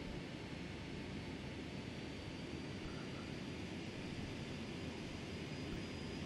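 A Boeing 757 taxis in the FSX flight simulator, its engines a faint, steady jet hum and rushing noise throughout.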